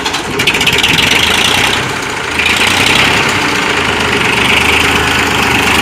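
A Massey Ferguson tractor engine idles loud and close with a steady mid-pitched knocking rumble, dipping briefly before settling back to an even run.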